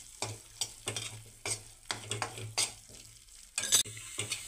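Spices such as onion-garlic masala, red chilli, coriander powder, garam masala and turmeric stirred in hot oil for Maharashtrian maswadi, with a soft sizzle under repeated scraping strokes of a spoon against the pan, close and fairly quiet.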